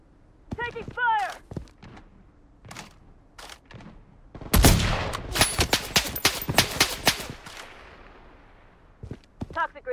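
Bursts of automatic gunfire in the shooter Blood Strike, with a few scattered shots early, then a loud rapid volley in the middle that trails into sporadic cracks; a voice briefly speaks near the start.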